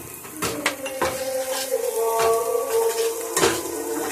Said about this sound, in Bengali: হলুদ গুঁড়ো আর নুন দিয়ে একটু নাড়ব।